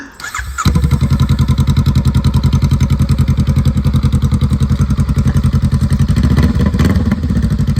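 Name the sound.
motorcycle engine starting and idling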